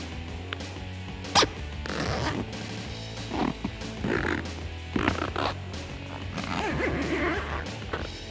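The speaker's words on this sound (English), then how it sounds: "Now let's go ahead and get this zippered into place." Rear window of a Bestop Supertop NX soft top on a Jeep Wrangler JK being zipped into place, with several short, close zipping rasps and fabric handling spread over the clip and faint talk in the background.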